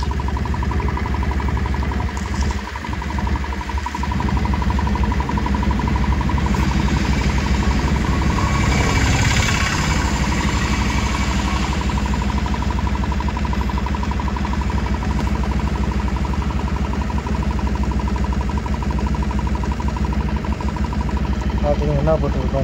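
A Bajaj Pulsar BS6 motorcycle engine starts and settles into a steady idle, a continuous mid-pitched rumble with brief disturbances near the start, heard close by.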